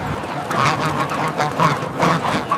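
Geese honk and quack in repeated bursts on a quiet morning. The calls come close and fairly loud in an irregular run of several overlapping cries, with no talk.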